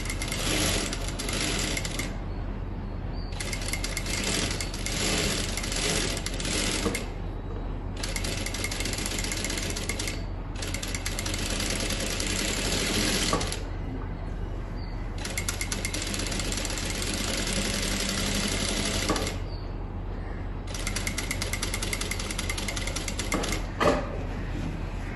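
A sewing machine stitches lining fabric onto a kameez neckline, running in steady close bursts separated by short pauses, with a constant motor hum underneath throughout.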